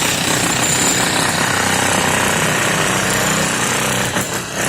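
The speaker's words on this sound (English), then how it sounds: "the chipping is going on with the help of demolition hammer" Demolition hammer chipping concrete at a building site to prepare columns for new concrete, a loud continuous rapid pounding close by that runs unbroken and eases briefly near the end.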